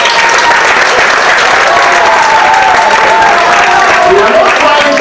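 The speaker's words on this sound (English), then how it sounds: "Can you clap for him?" A crowd at a community gathering in Boston claps and cheers loudly, a thick, sustained roar of hands with whoops and a few raised voices mixed in, holding at full strength throughout.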